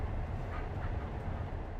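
An express train runs on rails through countryside outside Dalian, a steady low rumble with continuous wheel noise heard from inside the carriage, no voices.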